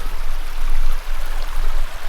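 A river stream on a trek through the wilderness of eastern Greenland rushes steadily, a loud, continuous broadband wash of water with slight surges and no voices.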